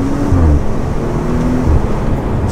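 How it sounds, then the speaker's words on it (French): Audi RS5-R ABT engine pulling hard as the turbo comes in, a deep dense interior rumble with rising pulses, heard from inside the cabin without speech. "et là tu sens, à 4000, t'as le turbo qui s'enclenche"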